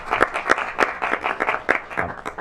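Scattered hand clapping from a small audience at a Montgomery County council meeting, a series of sharp, fairly close claps in an uneven rhythm that fades and picks up again over a couple of seconds.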